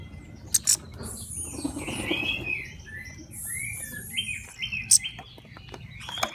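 Orange-headed thrush chicks being hand-fed give repeated high, thin chirps and squeaky calls in short bursts, close by over soft rustling and handling noises.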